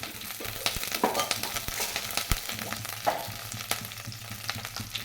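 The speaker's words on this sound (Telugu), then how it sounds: "పోపులు వేసుకొని వేయించుకోవాలి కొద్దిసేపు" Ghee tempering sizzles steadily in a pan with curry leaves and spices, a soft, close crackle broken by occasional sharp pops and stirring clicks.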